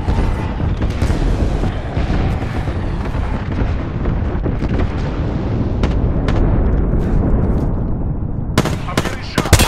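Dense, continuous barrage of blasts and gunfire during a battle royale match in the video game Apex Legends, loud and rumbling throughout with sharp cracks near the end, as an airstrike lands.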